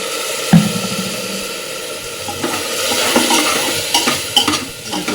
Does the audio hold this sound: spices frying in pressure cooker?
yes